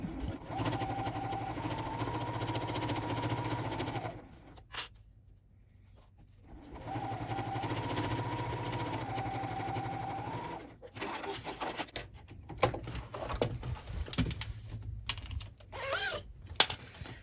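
A sewing machine stitches a front zipper pouch in steady continuous bursts, pausing for a few seconds midway, then resumes before giving way to scattered handling clicks.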